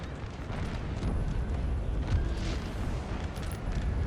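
Artillery fire in Napoleon Total War, a dense rumbling battle of deep booms and blasts overlapping continuously, with no clear pauses between the distant cannon reports.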